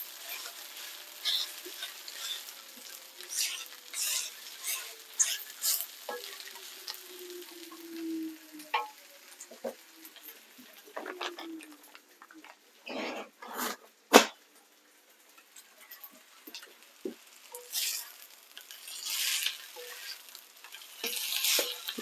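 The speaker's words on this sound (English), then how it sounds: "You want to stir fry these for about 10 minutes until they're really crispy." Chicken stir-frying for chilli chicken with peanuts, with intermittent sizzling bursts and scraping stirs in a pan. It is close and quiet, with pauses between the bursts.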